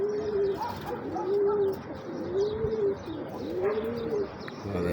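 A grey pigeon coos repeatedly in clear, rising-and-falling phrases close by, steady over faint background noise, with no talk.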